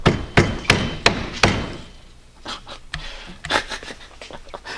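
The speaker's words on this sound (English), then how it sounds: "I guess a rubber mallet works too" A mallet strikes five times in a quick steady rhythm, dull and close, followed by a few lighter irregular knocks and shuffling.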